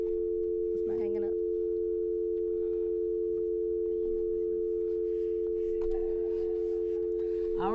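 A steady telephone dial tone hums continuously through a radio show's phone line while people talk faintly over it now and then during technical difficulties.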